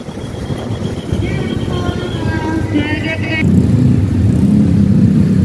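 Dense one-way traffic of cars and motorcycles on the road up to Puncak near Bogor, a steady close rumble with engines swelling louder toward the end and honking tones, under talk.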